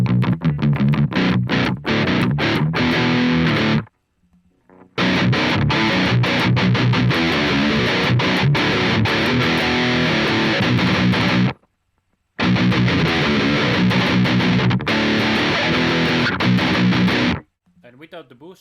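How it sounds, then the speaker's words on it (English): Distorted seven-string electric guitar in a metal tone, boosted by a Tube Screamer distortion pedal modelled in Pod Farm, plays loud, dense riffing in two long bursts separated by brief silent gaps, ending abruptly. "we have the Tube Screamer, which is used as a boost and a distortion"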